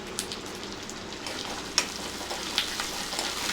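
Onion frying in a pan for uggani, a steady close sizzle and crackle with a few sharper pops, no voices.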